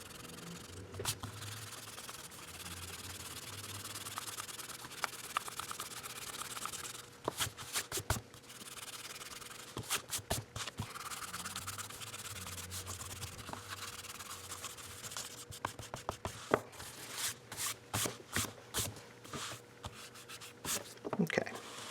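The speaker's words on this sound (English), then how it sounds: "Just erase our original pencil lines." An eraser rubs pencil lines off drawing paper in a cartooning session, giving close, rapid scrubbing strokes in bursts with brief pauses throughout.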